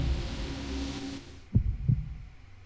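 A low heartbeat in the video game Reverse: 1999, two soft thumps near the end over a dull, droning ambient hum.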